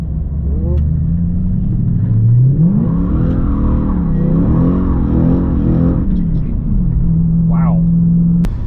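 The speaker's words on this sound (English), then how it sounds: "See if I can do a second gear roll-in burnout here." A Lexus GS400 with a manual transmission swap revs hard in second gear for a rolling burnout, its engine note climbing and holding loud and near, then easing off.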